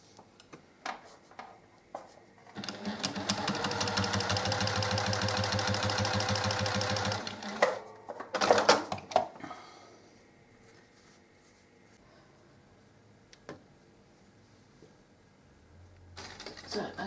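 A sewing machine stitches fabric for a key ring in one close, steady burst of fast rhythmic whirring lasting a few seconds, followed by a few short handling clicks and long near-silence.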